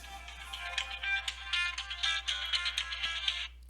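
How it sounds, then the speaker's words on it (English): A phone ringtone rings steadily for several seconds, a bright repeating electronic melody that is moderately loud and close, with no talking over it before it cuts off. "For some reason, I did not turn the ringer off on my phone."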